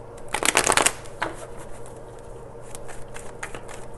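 Tarot cards shuffled by hand close up, a quick burst of riffling in the first second, then a single softer flutter, followed by faint intermittent card handling at low level.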